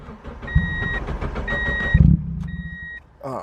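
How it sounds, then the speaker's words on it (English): A Mazda Miata engine cranks in low, uneven bursts without catching, close by, while a pair of steady electronic warning chimes beeps repeatedly over it. "So I'm gonna see if we can start it."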